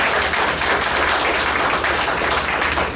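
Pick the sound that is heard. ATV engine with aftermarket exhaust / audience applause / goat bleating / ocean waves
audience applause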